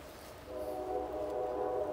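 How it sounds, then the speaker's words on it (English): A steady rumbling train passes at a distance at night near a mausoleum, a continuous low droning roar that swells slightly and holds, with no voices. "That damn train."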